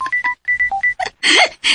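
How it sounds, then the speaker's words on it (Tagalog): A cellphone rings with a short melody of clear electronic beeps in quick bursts, loud and close, followed by a brief noisy burst. "Oh, may bagding ang akong cellphone."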